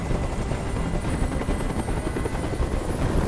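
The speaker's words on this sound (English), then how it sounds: "I can't stand that noise anymore. Tell that helicopter to get out of here." Helicopter hovering in Detroit: Become Human, a loud, steady rotor thrum and engine roar filling the scene without pause.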